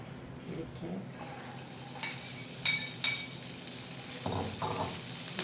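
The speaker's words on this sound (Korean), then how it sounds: "일단은 식용유 들어갑니다." Cooking oil sizzles in a pan with Cheongyang chili peppers for stir-fried anchovies, a soft crackle under scraping and stirring clatter, with a few sharp clinks of utensils.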